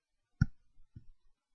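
A single crisp mouse click on apply in Gephi, followed by a softer faint click and light handling noise, quiet and close.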